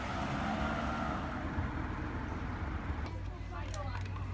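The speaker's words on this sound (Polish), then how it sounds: "Obok to jedą samochody." Traffic on a road through a California park: a car engine drones as vehicles drive past, steady and mid-distance, then tapers off while a voice talks faintly near the end.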